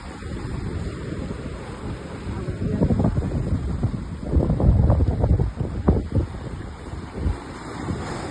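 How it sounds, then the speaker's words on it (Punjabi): Sea waves wash onto a Goa beach, a steady rushing roar that swells and recedes in surges, with wind buffeting the microphone throughout. "ਪਾਣੀ ਕਿੰਨਾ ਸ਼ੋਰ ਮਚਾਉਂਦਾ ਆਂਦਾ ਤੇ ਸ਼ਾਂਤ ਹੋ ਕੇ ਵਾਪਸ ਮੁੜ ਜਾਂਦਾ ਹੈ"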